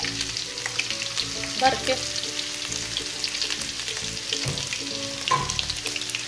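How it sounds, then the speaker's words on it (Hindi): Ginger garlic paste frying in a pan for a yogurt chicken dish after cumin seeds, with a steady close sizzle and occasional louder stirring scrapes and clinks throughout. "और उसको अच्छी तरह भून लेते हैं ताकि अदरक लहसुन की जो स्मेल है वो ख़त्म हो जाए"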